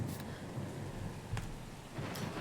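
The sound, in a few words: thunderstorm in the video game Pillars of Eternity II Deadfire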